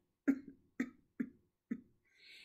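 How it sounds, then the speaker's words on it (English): A man coughs four times in a quick, evenly spaced series, close and fairly soft, with a faint breathy hiss trailing after. "He coughed."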